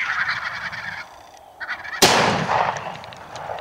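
Geese honk and call nearby during a youth goose hunt in New York, then a single loud, close shotgun blast cracks out and rings off, with the birds' calls continuing afterward.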